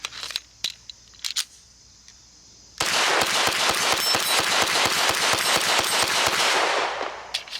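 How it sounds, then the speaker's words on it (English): A Sig 229 pistol fires a full magazine in a fast, steady string of sharp reports lasting several seconds, loud and close, after a few quiet clicks and handling noises. "I'm gonna go ahead and shoot the other mag real quick."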